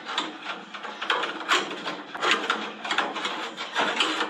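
A hand reamer works through a bushing in the elevator end cap of a RANS S-21 aircraft, giving close, repeated scraping and grinding strokes in a steady rhythm with no talk over it.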